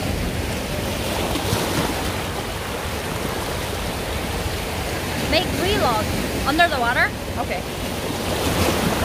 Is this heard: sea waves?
yes